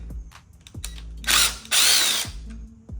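A power tool spins on Allen screws holding the rear turn signals of a Honda CB1000R motorcycle, two close, loud whirring bursts with ratcheting clicks between them, no talking.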